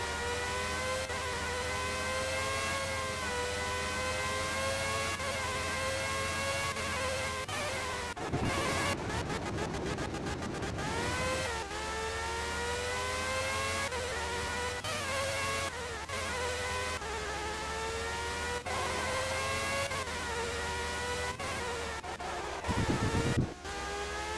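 Formula One race car engine in the F1 97 video game, a steady high whine sweeping up and down through gear changes, loud and continuous with a brief rougher burst midway and a short crash-like noise near the end.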